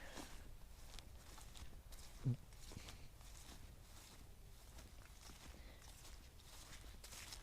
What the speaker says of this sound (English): Oh, can you hear it squelching?